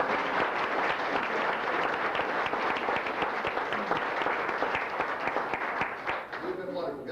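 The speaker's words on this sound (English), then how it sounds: "So this round of applause is for all of you people" Sustained audience applause fills a class reunion show, dense steady clapping from a crowd that holds at even loudness throughout before tapering slightly near the end.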